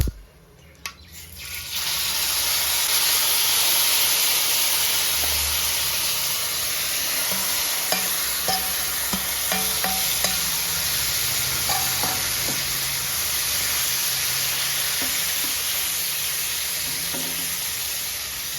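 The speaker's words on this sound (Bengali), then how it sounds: "ফটফট করে ফাটে, আমার হাতে পড়তেছে" Hot oil hisses in a broad, continuous sizzle while tamarind pickle cooks in a pan, with scattered small pops and spatters and occasional stirring scrapes over the steady frying noise.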